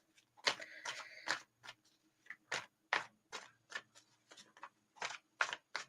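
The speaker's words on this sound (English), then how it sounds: "I'm getting told not to shuffle them as fast." Tarot cards being shuffled by hand in a quiet room, a run of crisp riffling bursts and flicks in an uneven rhythm, close and fairly faint.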